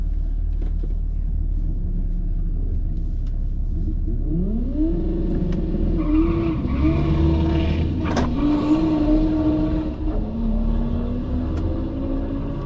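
Drag race cars launching and accelerating at Biķernieki track, engines roaring up through rising, sweeping pitch over a heavy low rumble, loud and close, with brief shifts as they pull away.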